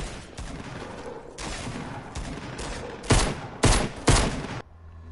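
Bursts of gunfire ring out over a continuous rattling din, with several loud, close shots clustered near the end before it cuts to quiet.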